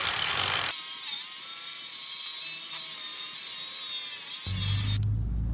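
A grinding disc runs hard against a steel bottle jack, a loud sustained abrasive whine with bright high overtones holding steady for several seconds before cutting off, with a brief low rumble near the end.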